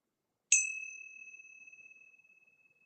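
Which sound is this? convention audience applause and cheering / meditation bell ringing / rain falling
meditation bell ringing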